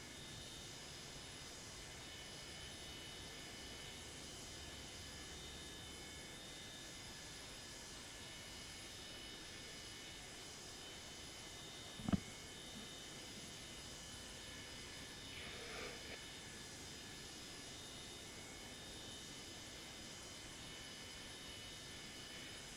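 Ansett Boeing 727 jet engines idle in Microsoft Flight Simulator 2024 with a steady, faint, whining hum, broken once by a sharp click halfway through, and no talking.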